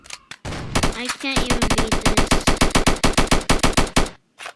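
Rapid automatic gunfire in a defend-the-train video game, a loud, fast, even burst of roughly thirty shots lasting about three seconds, with a short spoken phrase just before it.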